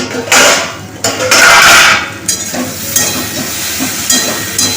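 Okra sizzles and hisses as it fries in a hot pan, with bursts of steam and a few clanks of stirring.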